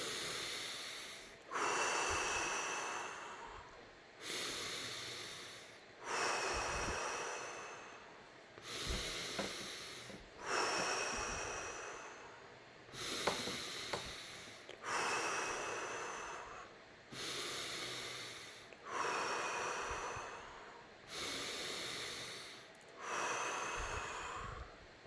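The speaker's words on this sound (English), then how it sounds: "Start breathing deep, please." Slow guided deep breathing, about ten long drawn breaths in a steady rhythm, each a loud close airy inhale or exhale with brief pauses between, no talking.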